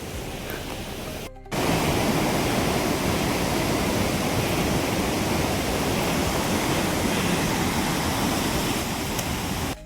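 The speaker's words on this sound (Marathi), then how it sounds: "हा आहे लिंगमळा धबधबा. ओसंडून वाहतोय सध्या." Lingmala waterfall near Mahabaleshwar in full monsoon flow gives a steady, loud, broadband roar of rushing water, continuous and close, broken only by a brief cut near the start.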